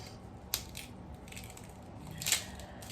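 A knife cuts through a tough onion with two faint, sharp crunches about two seconds apart, set against quiet room noise.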